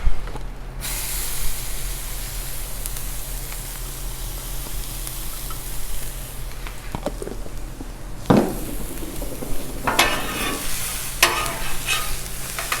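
Jalapeno, onion and green pepper hit a hot Blackstone griddle, producing a loud, continuous sizzle with bursts of hissing spray and occasional spatula scrapes against the flat steel.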